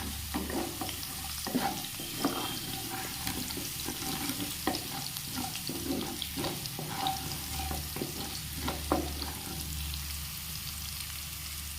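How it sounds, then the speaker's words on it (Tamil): Finely chopped garlic sizzles in a hot pan while a spoon stirs and scrapes repeatedly, the frying crackle steady underneath the clinks. "10 பல் பூண்டை பொடி பொடியாக நறுக்கி வச்சுருக்கேன், அதை சேர்த்து நல்லா வதக்கி விட்டுக்கலாம்"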